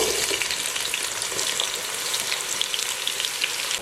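Onions fry in hot oil in a pan for a mixed vegetable curry, giving a loud, dense sizzle with constant crackle and no voices.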